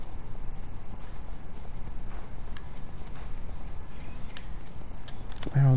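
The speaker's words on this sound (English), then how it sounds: "while you're riding your horse, having a good hack" A horse being ridden in Farming Simulator 19 clip-clops along at a steady walking rhythm through open countryside, the hoofbeats moderately loud over a constant ambient background.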